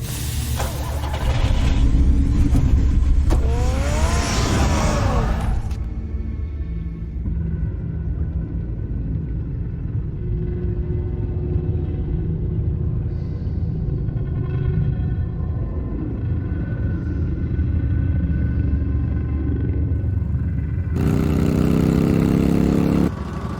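A car in the Batman Telltale video game rumbles at a steady idle then drives off, a low continuous engine drone running through most of the stretch with brighter bursts of game sound at the start and end.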